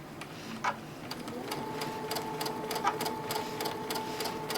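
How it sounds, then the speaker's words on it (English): A sewing machine stitches steadily along a line on a quilt block, a close, even mechanical whir with a faint repeating needle tick and occasional small clicks. "My needle's going to come down right on the line, and we're going to go all the way down."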